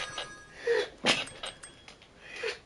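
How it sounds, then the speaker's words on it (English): A single sneeze bursts out partway through, fairly close and moderately loud, followed by faint snuffling and breath during a livestream of Spyro: The Reignited Trilogy. "Had to sneeze again."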